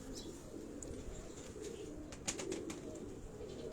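Pigeons kept on a Karachi rooftop coo faintly against quiet outdoor background noise, with a few soft calls and brief clicks.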